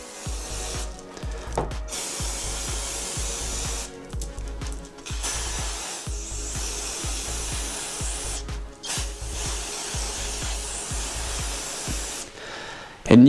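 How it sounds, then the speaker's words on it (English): Brake cleaner sprayed from an aerosol can onto a bike chain in repeated hissing bursts, each lasting about a second with short gaps between them. The bursts come up close and loud, and a clunk is heard near the end. "we'll just go ahead and spray this chain off real quick"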